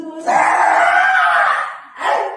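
A woman screams loudly and close by in imitation of labor pains, one long strained cry followed by a shorter second burst after a brief pause.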